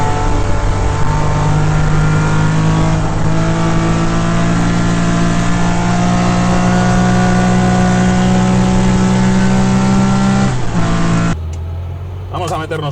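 Engine of a classic Porsche 911 2.7 S held steady around 4000 rpm while driving on a fast road, a loud continuous drone with strong harmonics, dropping off sharply near the end.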